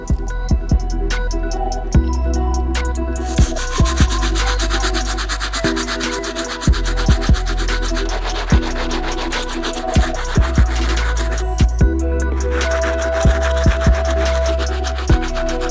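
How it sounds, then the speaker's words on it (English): A stiff bristle brush scrubs the dirty soles of Air Jordan 14 sneakers with cleaning solution, making loud, close, rapid scratchy strokes in a steady repeated rhythm with sharp knocks now and then and no talking. "the first brush we're gonna be using is our stiff bristle brush to clean up these dirty"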